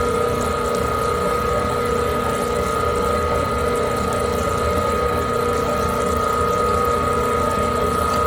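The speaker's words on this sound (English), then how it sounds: "I'm gonna wait until the motor stops moving." A small popcorn machine motor runs with a steady, continuous whir and hum, unchanging throughout and fairly close.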